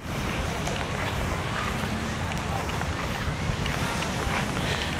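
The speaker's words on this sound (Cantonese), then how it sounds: "真係好大風。" Strong wind at a beach roars as a constant, loud rush of buffeting noise across the whole stretch, with a faint hint of surf underneath and no clear voices.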